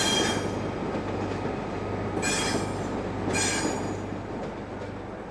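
A British Rail Class 91 electric locomotive pushes its train into King's Cross station, giving a steady rumbling hum with two sharp bursts of high wheel squeal.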